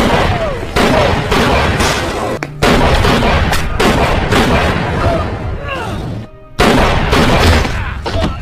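Dense, continuous bursts of gunfire and heavy booms fill a film shootout with police, dropping out briefly twice before the loud barrage resumes.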